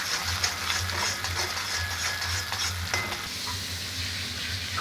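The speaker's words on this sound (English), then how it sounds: "paste into this hot oil. We have to stir it well." Spice paste frying in hot oil for a peas and mushroom curry, heard as a loud, continuous sizzle with scattered scraping and stirring clatter close by.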